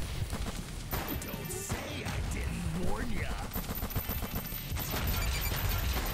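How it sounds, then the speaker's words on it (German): Explosions and rapid gunfire from the action video game Huntdown, a dense, continuous barrage of blasts and shots with crashing impacts throughout, loud and busy with a voice partly mixed in. "wie viel Explosion denn noch?"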